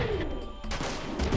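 An enemy wanzer in Front Mission 3 fires its cannon, giving a short burst of rapid blasts followed by a loud crack and sustained rumbling report, all close and full.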